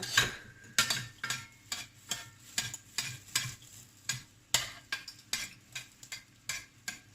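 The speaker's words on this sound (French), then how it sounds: "Et là je dépose dans l'huile chaude." Moroccan sfenj doughnut dough frying in hot oil while a fork works the pieces, producing a steady rhythmic series of close clicks and taps over a soft bubbling sizzle.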